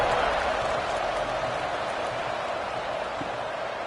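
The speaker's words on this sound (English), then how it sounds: "They're set to kick it off, and this crowd now ready to get behind them." Steady crowd roar filling a college football stadium as Arkansas State and Rice line up for the kickoff, a broad continuous wash of cheering and noise holding level throughout.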